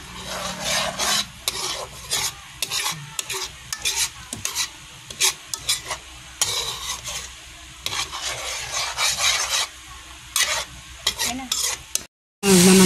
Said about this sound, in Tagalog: Ayan, kumukulo na ang gata.